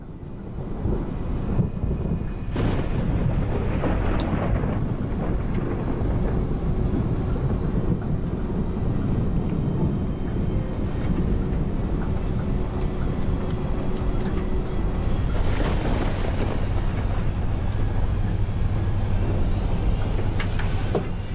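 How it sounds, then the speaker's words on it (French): Steady rumbling storm noise with a low continuous roar, heavy turbulence-like broadband wash and a brighter surge near the end, loud and unbroken throughout, like a thunderstorm encountered during a flight. "Aller tout droit à travers la tempête ou essayer de la contourner."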